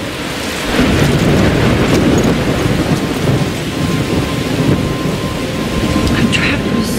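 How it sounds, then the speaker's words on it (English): A thunderstorm in the game Life is Strange: heavy rain pours loudly and steadily, with deep rumbling thunder rolling underneath, close and enveloping. "I'm trapped in a storm?"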